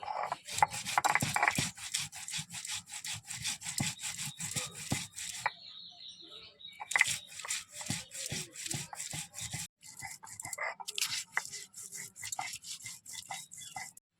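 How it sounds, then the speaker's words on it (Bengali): Ginger, cumin and green chillies are ground with a little water into a spice paste for a fish curry, giving repeated rough rubbing and scraping strokes in an uneven rhythm, close and moderately loud. "আদা, জিরে, কাঁচা পাকা লঙ্কা, একটু জল দিয়ে মশলাটা আমি বেটে নেব।"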